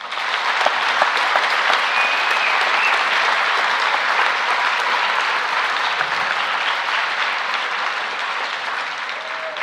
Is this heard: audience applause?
yes